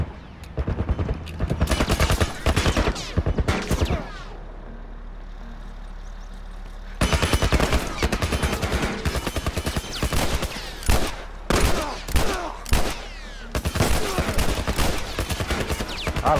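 Gunfire in The Last of Us video game: loud, rapid volleys of shots in dense bursts, a quieter lull with a low hum around four to seven seconds, then more clustered shooting and sharp single cracks to the end.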